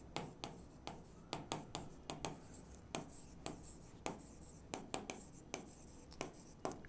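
Marker or chalk strokes on a classroom board during a finance lesson, a steady series of sharp tapping and scratching strokes in irregular quick rhythm, close and fairly clear over a quiet room, with no talk.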